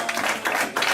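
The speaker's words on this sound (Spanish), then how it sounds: "Dale un aplauso al Señor" A church congregation claps for the Lord during a sermon, a brief burst of rhythmic hand clapping from many people in a reverberant room.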